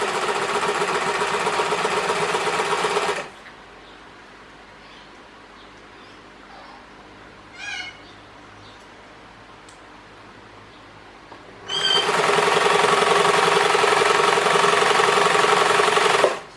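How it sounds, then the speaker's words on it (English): A sewing machine runs a fast, steady stitch along the outer edge of a quilt, a loud close buzz for a few seconds, a long quiet pause with a brief whir, then another sustained run. "I'll sew an edge around the total edge of the quilt"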